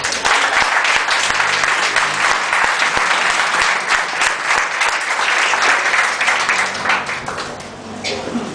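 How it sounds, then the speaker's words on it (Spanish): Congregation applauding in a church during a sermon, loud sustained clapping from many hands filling the room, with voices mixed in and tapering toward the end. "Denle un aplauso al Señor"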